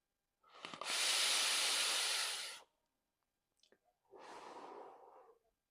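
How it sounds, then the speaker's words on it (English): Two loud, close, breathy draws of airflow through a Vaperz Cloud Asgard V2 Mini vape, the first long and the second shorter, separated by a brief quiet gap. "it has got a very loud airflow though"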